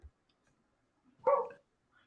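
A dog gives a single short bark, moderately close, in an otherwise quiet room during a wrestling roundtable talk show, with no voices at that moment.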